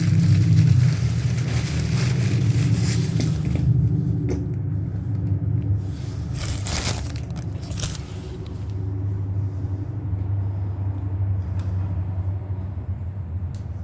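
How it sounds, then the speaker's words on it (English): A car passes along a side street in a city, its engine rumbling loudly as it accelerates, a heavy low drone that swells early and lingers steadily with no talking. "Check that car that just drove by the side street, then you would simultaneous loud acceleration that the whole city has to hear."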